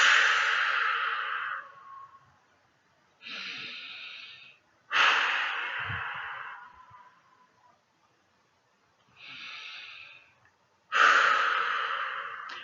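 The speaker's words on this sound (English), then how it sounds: "invite you to join me in taking 3 deep cleansing breaths" A person takes deep cleansing breaths, three slow cycles of long airy inhales and exhales with brief pauses between them, close and alone with no talk.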